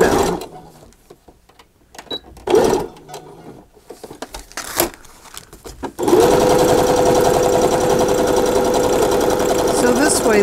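A sewing machine driven by a foot pedal starts after bursts of fabric handling and talk, then stitches in a steady, loud, continuous mechanical whir that runs without pause to the end.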